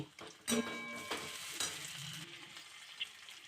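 Garlic, onion and tomato hit hot oil in a wok for an egg bhurji curry, a sudden sizzling burst followed by steady frying hiss with a few clinks and stirring scrapes, close and without talk.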